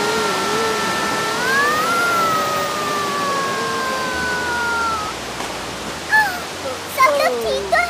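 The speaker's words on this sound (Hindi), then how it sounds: "वाटरफॉल।" A waterfall in an animated underwater adventure, heard as a steady broadband rush of falling water with tonal music and voice-like lines running over it, thinning out toward the end.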